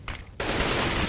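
Gunfire in CS:GO during a competitive match on Mirage: a brief opening shot, then a dense, loud, sustained rattle of rapid fire filling the rest of the second.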